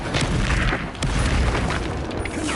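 Expulso spell explosion in Hogwarts Legacy: a heavy booming blast with a deep low rumble and crackling bursts, loud and close, rolling on through the whole stretch amid chaotic combat noise.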